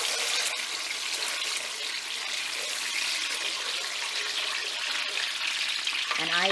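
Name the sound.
stirring sauce in a pan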